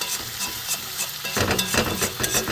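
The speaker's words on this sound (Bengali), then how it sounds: "আমি একদম এটাকে নেড়ে নেড়ে একদম শুকনো করে নেব।" Pea pod paste being stirred and fried in a pan until dry: steady sizzling with scraping stirring strokes, growing louder and busier partway through, close up with no talking.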